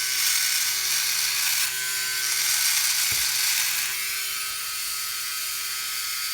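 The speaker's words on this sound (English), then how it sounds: "This is just a straight clean shave right there." A Philips Norelco OneBlade electric shaver running steadily while shaving a face, a loud continuous buzzing whir held close to the ear, with no talking.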